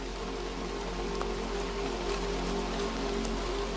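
Rain falling steadily, a dense, even hiss of drops on surfaces with no breaks or voices.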